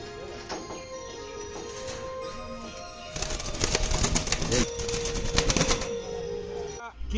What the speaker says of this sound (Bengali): আমার জানা ছিল না সাদা ঘুঘু দেখতে পাবো